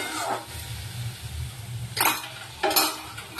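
Curry masala being sautéed and stirred in a pan, soft sizzling with two distinct scraping strokes of a spoon against the metal, close and fairly quiet.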